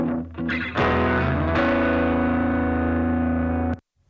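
Layered electric guitar tracks with heavy distortion effects, heard alone and up close. Sustained gritty chords are struck twice, swell and ring, then cut off abruptly near the end.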